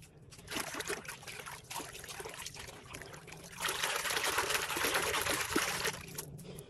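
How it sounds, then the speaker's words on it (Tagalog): Homemade powder detergent is poured into water, making a close, steady trickling and sloshing that swells louder midway and runs on without talk. "susubukan natin siyang ilagay sa tubig kung bubula na ba"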